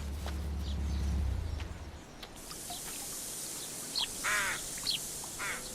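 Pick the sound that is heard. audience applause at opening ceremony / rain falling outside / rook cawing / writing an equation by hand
rook cawing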